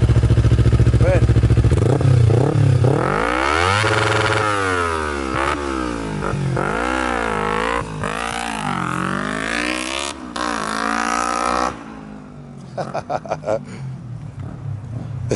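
A Kawasaki Ninja 250R motorcycle with a stainless header and full exhaust revs hard and repeatedly, its loud engine note sweeping up and down in rising and falling pitches, close by, before settling to a rough, clattering idle.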